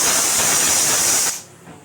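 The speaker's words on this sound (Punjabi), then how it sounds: "ਸਾਡੀ ਇਹ ਸੋਨ ਤੀਜੀ ਸੀਟੀ ਵੱਜ ਗਈ ਕੁੱਕਰ ਦੀ" A pressure cooker holding colocasia-leaf patora lets out a loud, steady, close steam whistle with a bright hiss. It cuts off abruptly after about a second and a half, leaving a quiet room.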